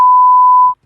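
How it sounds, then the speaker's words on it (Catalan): Censor beep, a loud, pure steady tone lasting about three quarters of a second, then cutting off into near silence. "Posa un pip."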